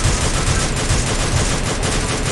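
Machine gun fire in the Free Fire video game, a dense, continuous rapid burst of shots filling the whole moment, loud and close with no pauses.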